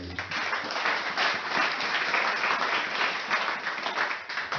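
A church congregation applauds and cheers at a Sunday worship service, a broad sustained wash of clapping that holds steady at full strength for the whole stretch.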